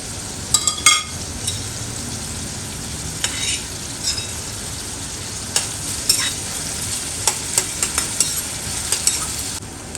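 Goan fish curry frying in hot oil, a steady close sizzle with occasional sharp pops and stirring scrapes of a utensil in the pan, no talk over it.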